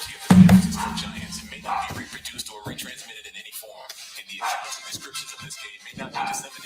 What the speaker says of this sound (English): got my dog in here.